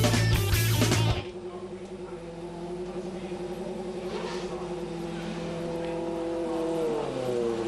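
A1GP race cars idle and rumble along the pit lane at a Durban qualifying session, a steady droning engine note with harmonic whine that swells slightly toward the end, after a brief loud burst of music at the start.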